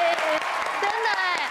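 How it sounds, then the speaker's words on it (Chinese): Children at a kids' talent show dance performance clap for themselves in a brief burst of applause over music playing in the background. "帮自己拍拍手。"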